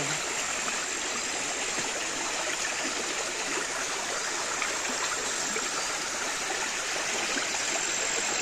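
A waterfall near Koyna dam roars in a loud, unbroken rush of falling water heard close up, with no voices over it.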